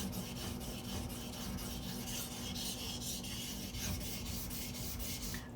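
A Mora knife is ground on a sharpening stone with steady, repeated rasping strokes, close and fairly quiet, in a regular rhythm with no voices.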